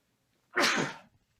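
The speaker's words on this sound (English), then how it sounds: "I feel a sneeze coming." A single loud, sudden sneeze bursts out close to the microphone after silence, then trails off quickly.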